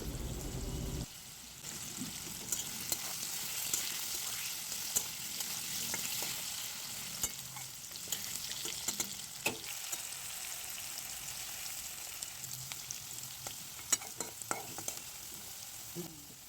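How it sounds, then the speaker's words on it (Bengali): Diced potatoes seasoned with salt and turmeric fry in a pan, giving a continuous close sizzle with scattered scraping stirs and small crackles throughout. "টুকরো টুকরো করে কেটে রাখা আলুগুলো দিয়ে হালকা একটু ভেজে নিতে হবে"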